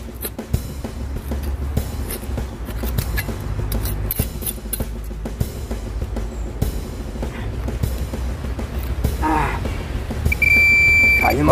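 A handheld metal detector hunting for centuries-old buried artifacts sounds a few short electronic tones and then a sustained beep near the end, over scraping and rustling handling noise.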